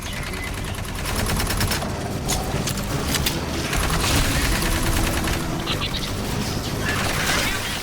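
Rapid automatic gunfire blasts at capacitors in the video game Aliens: Fireteam Elite, dense bursts of shots rattling continuously with mechanical clatter and faint electronic tones mixed in.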